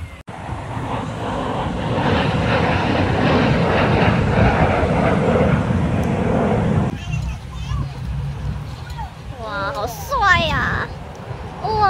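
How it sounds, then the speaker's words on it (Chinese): Aircraft roar loudly overhead at a Labor Day air show in Cleveland, a heavy sustained rumble that fills the first several seconds before dropping away as people talk. "这飞机声音真的很大"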